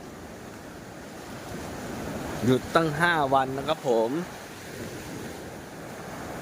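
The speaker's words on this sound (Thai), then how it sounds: "ให้ดูคลื่นให้ดูคลื่นโหความสวยงาม" Sea waves breaking on a beach at Hua Hin and Cha-am on the Thai coast: a steady roar of surf and wind noise throughout, with someone speaking briefly in the middle.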